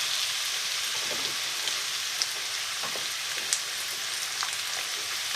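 Beef with lemongrass and turnips frying in a pan over high heat, a steady close hiss and sizzle with scattered pops and crackles, no voices.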